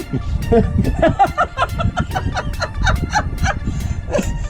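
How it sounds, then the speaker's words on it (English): A loose chicken on an abandoned ranch gives rapid, choppy clucks in quick bursts, close and fairly loud, while people talk nearby. "My chicken got loose."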